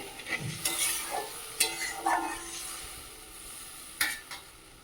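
Fish curry gravy bubbles in a new wok with a gentle, continuous simmering sizzle, broken by several brief stirring scrapes and clinks, no talking.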